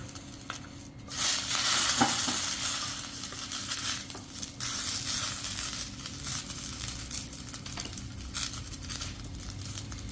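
Drumstick leaves stir and crackle in a hot pan with a little oil and fried asafoetida, giving a steady close-up rustle and sizzle with occasional scraping.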